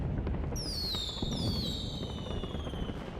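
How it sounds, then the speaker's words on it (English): Synthetic fireworks effect from a Nintendo press presentation, with descending whistling tones over a dense, steady crackling roar that continues throughout, moderately loud. "Digital fireworks?"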